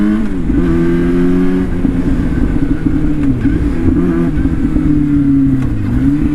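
A Yamaha R6 sportbike engine revs hard and accelerates up close, with a loud, rising and falling drone that stays steady and unbroken.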